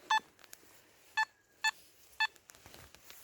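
Simplex SP24 metal detector sweeping over busy ground with a new coil, giving four short, sharp beeping tones at irregular intervals, one trailing into a brief faint sustained note, with quieter chirps between.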